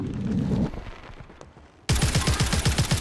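Rapid automatic gunfire from the Warzone video game: muffled, distant shots at first, then loud, close, rhythmic bursts of bullets.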